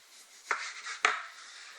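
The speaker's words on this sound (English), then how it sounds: "Slicing it real thin right now." A knife cuts thin slices from a 2.5-pound piece of top round beef for homemade jerky, giving two distinct close chopping strokes on a board with soft scraping between them.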